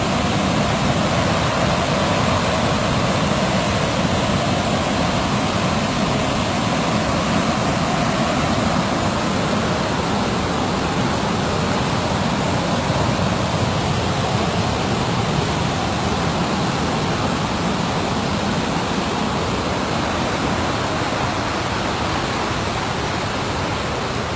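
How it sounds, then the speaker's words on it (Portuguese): The waterfall at Bica da Canoa in Ceará roars loud and close as a constant, dense rush of falling water that never lets up. "Que linda está a nossa cachoeira hoje. Observem aí de pertinho."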